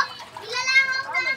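Many children chatter and call out at once while playing near a house in Palawan, their high voices overlapping in a lively, close crowd.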